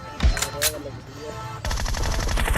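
Gunfire in the mobile battle royale game PUBG Mobile: a few sharp shots early on, then a rapid automatic burst that runs to the end, loud and close, with game voice callouts mixed in.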